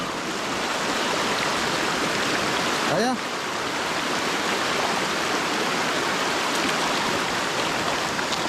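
A stream at a farm rushes loud and steady, a dense continuous wash of flowing water close by, with a brief whistle-like call near the middle.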